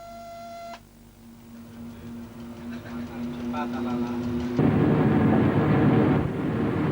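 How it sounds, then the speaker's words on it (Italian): A 656 electric locomotive pulling the Eurocity Romulus gathers speed, a steady electric whine and motor hum swelling into louder, rougher rolling noise in the final seconds, with a brief high beeping tone at the very start. "Il treno comincia a prendere velocità."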